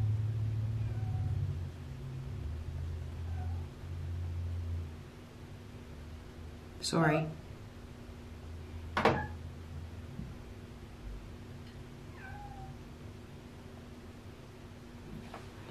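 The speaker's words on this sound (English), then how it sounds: "as that cat started crying" A house cat cries indoors with two brief, fairly loud meows separated by a couple of seconds, a few fainter calls scattered around them, and a single short spoken word.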